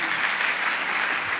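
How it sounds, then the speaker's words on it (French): Applause from an audience at a national conference day on dyslexia, a steady dense clapping throughout the short burst, fairly close and even in loudness. "Moi, j'aimerais qu'on l'applaudisse."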